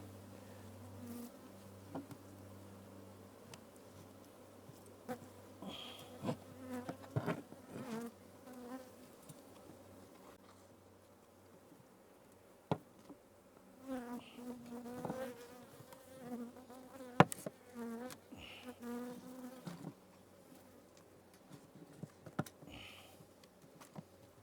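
Honey bees buzz around an open hive in a city, their wingbeat whine rising and fading as individuals fly close past, with a lower hum and scattered clicks and taps of handling underneath.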